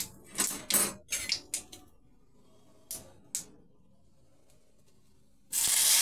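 Mustard seeds sputter in hot oil in a pan with a few scattered pops, then lentils are tipped in and a sudden, loud, sustained sizzle takes over.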